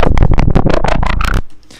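FM8 synthesizer bass run through processing and distortion, a gritty, buzzy burst of rapid pulsing notes played loud and close over a beat, then cutting off into a faint tail.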